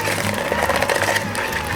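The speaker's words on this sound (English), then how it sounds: "I'm gonna take my hand mixer and I'm gonna beat this around for just a few seconds on medium speed" A hand mixer beats butter in a bowl on medium speed, a steady mid-pitched motor whir that runs unbroken and fairly loud for the whole short stretch.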